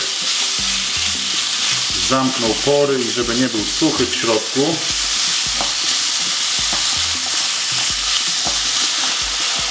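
Chicken pieces stir-fry in a very hot pan, a loud, continuous sizzle and crackle with occasional stirring scrapes, while someone talks over it in the middle.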